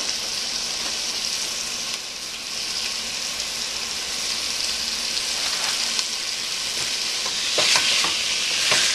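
Meat browning in a pot over the heat gives a continuous, close sizzle with a dense hiss throughout and a few brief stirring scrapes and spatters near the end.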